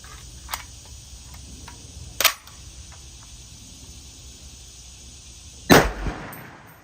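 Single rifle shots from an FN SCAR 17 and a Robinson Armament XCR-M during a firing test: two loud, sharp reports a few seconds apart, with faint ticking and clicking between them.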